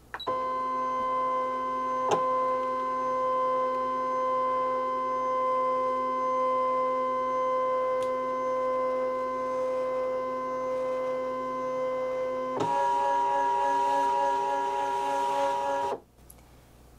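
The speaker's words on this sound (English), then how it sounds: "So I want to scan that image, so I hit scan, scan to cut data, and start." A Brother ScanNCut machine runs a scan, giving a steady motorized whine with a constant tone that shifts to a louder, busier pitch near the end before stopping abruptly.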